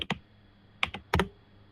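A few quick clicks on a small computer keyboard: two taps, a pause, then a close cluster of keystrokes in a quiet room.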